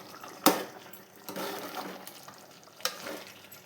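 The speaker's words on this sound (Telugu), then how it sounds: "ఇదంతా ఒకసారి కలుపుకుందాం" Chicken curry with masala gravy stirred in a pan, giving a few scraping, stirring strokes with a soft sizzle underneath, the sharpest one near the start.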